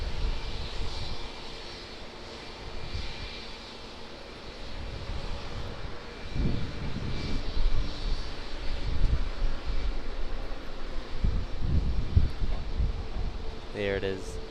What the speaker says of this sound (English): Air New Zealand Boeing 787-9 Dreamliner off to Denpasar, Bali, just taxiing out now.